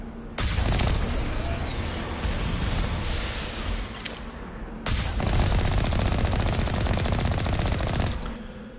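Sustained automatic turret gunfire in Mass Effect, a dense rattling burst running for several seconds, a brief gap, then another long loud burst, with no talk over it.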